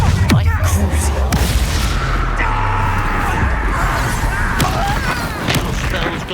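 In a Hogwarts Legacy battle, a Bombarda blasting spell lands as sharp, thumping booms and crashes over a dense, loud layer of game combat noise and background sound.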